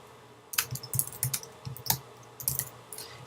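Computer keyboard keys clatter in quick irregular bursts as a name is typed into an author-profile form, several crisp close clicks with short pauses between groups, no talking.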